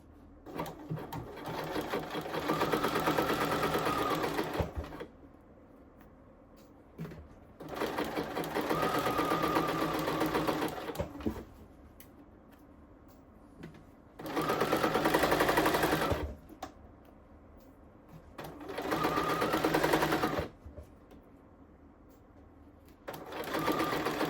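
Sewing machine running along a blazer pocket lining in four loud, close bursts of steady stitching, separated by short quiet pauses.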